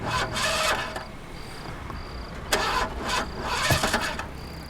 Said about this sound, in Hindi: पांच लाख की गाड़ी और इस तरह रास्ते में बंद हो।